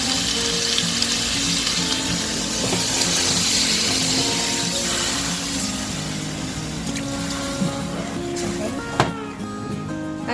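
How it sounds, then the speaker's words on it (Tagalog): Chicken stock poured into a hot pan of bihon noodles sizzles and bubbles steadily, a loud continuous frying hiss with liquid gurgling and a clank of utensils near the end. "Tapos lalagyan na natin siya chicken stock."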